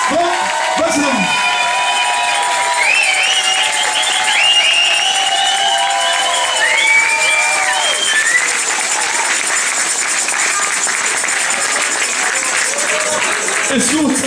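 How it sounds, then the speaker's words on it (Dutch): A large crowd claps and cheers steadily at a carnival season closing event, the applause sustained and dense with whoops rising above it, lasting throughout. "Nogmaals een applaus voor onze voorzitter, Frank Wesseling."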